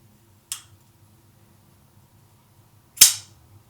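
A folding knife's flipper snaps it open twice, each a sharp, crisp click close up, separated by a couple of seconds of near silence.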